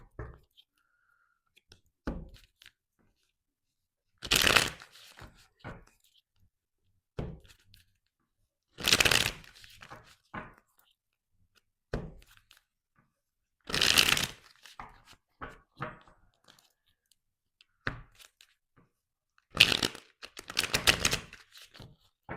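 Tarot cards shuffled by hand in quiet bursts of riffling, each lasting about a second, with soft clicks and taps of the deck between them and no voices.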